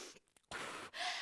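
Quick, loud breathy huffs in short bursts, panting like a dog, practiced during a prenatal exercise class, close and alone with no talk.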